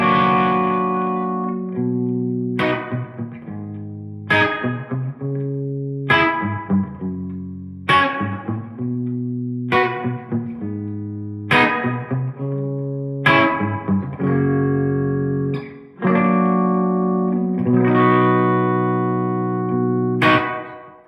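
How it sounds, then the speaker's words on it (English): Electric guitar played through a TC Electronic Hall of Fame 2 Mini reverb pedal set for a wet reverb: a series of strummed chords, each ringing out with a long, lush reverb tail, played alone without voices. "right now we just got this set up for a typical wet reverb type sound"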